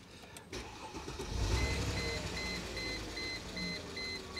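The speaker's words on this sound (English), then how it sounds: "The engine sounds a little better." An engine cranks and catches on a used car, followed by a steady rumbling idle with a regular chiming warning tone repeating over it, close and fairly loud with no talk.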